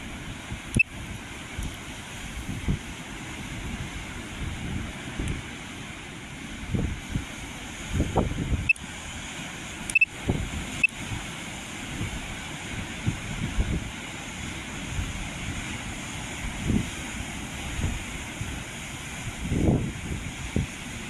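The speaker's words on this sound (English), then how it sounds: "It's gusting 25 mile per hour winds" Wind gusting around 25 mph at an Isle of Wight campsite buffets the microphone in rumbling low surges, rising and falling irregularly over a constant hiss, loud and close throughout.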